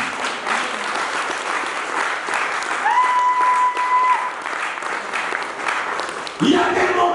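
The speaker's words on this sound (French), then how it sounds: "On acclame le Seigneur là-dessus" A church congregation applauds the Lord during a sermon, with sustained clapping from a full room and a voice calling out over it.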